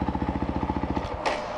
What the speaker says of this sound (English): it'll shut the bike off because it's still in gear